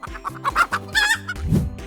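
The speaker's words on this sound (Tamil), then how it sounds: "இது கோழி பக் என கொக்கரிக்கும்" A chicken clucks in a quick series of close, choppy calls, with no talking.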